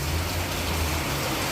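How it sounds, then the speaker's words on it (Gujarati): Heavy monsoon rain falls in Navsari as a dense, constant hiss with no gaps and no speech. "જોરદાર વરસાદ ચાલુ છે."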